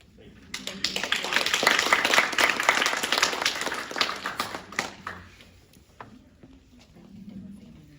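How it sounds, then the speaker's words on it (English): Applause from an audience at an after-school program event, a dense burst of clapping that swells and then thins out, with a few scattered claps and some voices trailing at the end. "One more round of applause because this is an amazing program."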